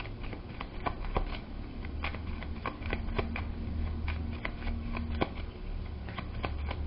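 Tarot cards are shuffled by hand in quick repeated riffles and soft slaps, a close, continuous papery clatter with sharp ticks, no talking.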